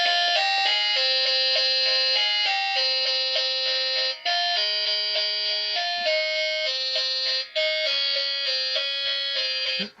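Fixed electronic ringtone melody from a toy gaming phone with 400+ built-in games, loud and shrill, playing a fast repeating beeping tune in short phrases with brief gaps, alone without talk.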